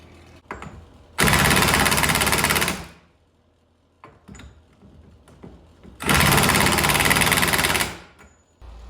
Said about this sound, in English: So I'm gonna try and impact it the rest of the way through.